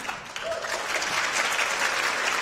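A concert hall crowd at a high school band performance breaks into applause, a brief dip then a swell into sustained, dense clapping from many hands.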